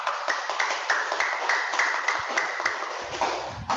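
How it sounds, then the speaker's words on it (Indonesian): Audience applause for Ali Usman after his talk on drugs in the Islamic view, heard as a steady wash of many hands clapping at close range that carries on throughout and thins slightly near the end. "Tepuk tangan Bapak Ali."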